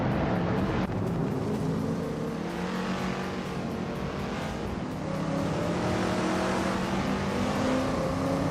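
A 1969 Chevrolet Nova SS races in a video game, its engine a steady, loud roar throughout, with slight swells as it revs and pushes through the pack.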